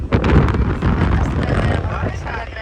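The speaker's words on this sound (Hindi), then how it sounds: "बहुत तेज आंधी है जी।" A strong wind storm roars over a village, with loud steady gusting and buffeting close to the microphone, mixed with what sounds like blowing water, while a person talks over it.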